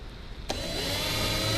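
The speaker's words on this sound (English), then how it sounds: "now we've got the hole drilled and we're ready to go" A power drill boring a 5/16 hole through a boat rudder bracket starts abruptly after a quiet moment and then runs as a steady, loud, close whine.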